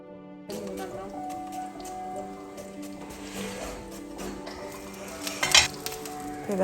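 Onions for chicken curry fry softly in a pan under a steady tonal hum, with light clinks of a utensil against the pan and a couple of louder knocks near the end.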